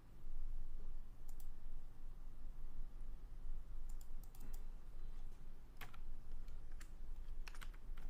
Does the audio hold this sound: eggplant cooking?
no